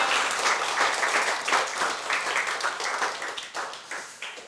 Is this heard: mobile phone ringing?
no